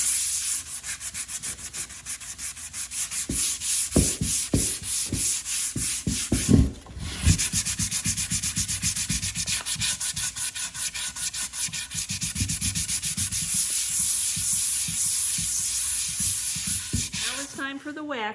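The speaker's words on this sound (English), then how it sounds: "Time to sand on the yellow one. This is just going to smooth everything down." Sandpaper is rubbed firmly back and forth across a painted wooden furniture piece with a yellow finish. The close, continuous scratchy strokes keep a steady rhythm, with a short thump partway through.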